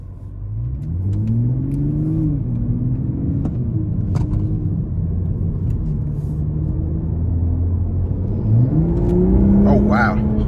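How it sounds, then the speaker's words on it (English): A 2021 Toyota Supra 3.0 Premium's engine revs up under throttle, its note climbing steadily, easing off, then rising again near the end; a loud, close rumble heard from inside the cabin. "Right off the bat, just giving it throttle, it just threw me back in the seat."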